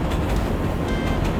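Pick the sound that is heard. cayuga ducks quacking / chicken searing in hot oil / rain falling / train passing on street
train passing on street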